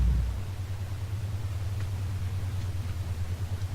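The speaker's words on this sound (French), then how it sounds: "Et vous avez le bruit d'une voiture." Steady low engine drone of a car in the Minecraft Dalek Mod video game, a constant idling rumble heard alone and fairly loud throughout.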